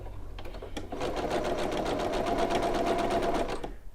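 Domestic sewing machine stitching a seam on a cotton patchwork pillow, a fast steady needle rattle running continuously for several seconds before stopping, close and clear with no talk.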